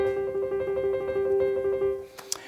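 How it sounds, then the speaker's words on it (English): A piano tremolo within a blues riff: a rapidly repeated, steady oscillation of notes at moderate volume, fading after about two seconds into a faint single high note, with no talking. "And here's a tremolo."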